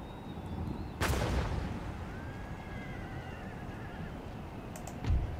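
A musket volley from line infantry in Empire Total War cracks out as one loud broadband burst near the start. It sits over a steady battlefield din, with a smaller report near the end.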